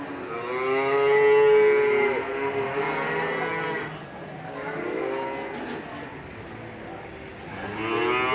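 Cattle gathered for buyers at an Indonesian livestock market low repeatedly, several long, loud moos one after another, one at the start and another near the end, with faint background chatter.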